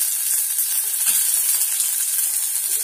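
Onions fry in hot oil in a kadai for chicken chilli chukka, giving a close, steady hiss and sizzle with a few soft stirring taps underneath.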